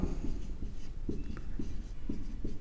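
Chalk or marker writing points on a classroom board: a run of short scratchy strokes in quick, uneven rhythm, close and clear, with no talking.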